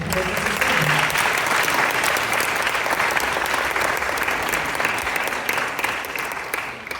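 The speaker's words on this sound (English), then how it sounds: "Let's give another round of applause for him." A hall audience at a birthday program claps loudly and continuously, a thick wash of applause holding steady for several seconds before tapering near the end.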